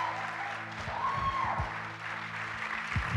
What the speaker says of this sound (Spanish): ¿Por qué no le da un fuerte aplauso al Señor este día?